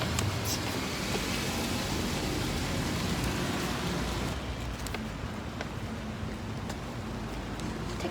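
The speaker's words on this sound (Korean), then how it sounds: "엄청 오랜만에 나와서 비가 오네요, 근데" Steady outdoor rain pours down as a broad, continuous hiss with scattered droplet ticks, holding at an even moderate level throughout with no voices.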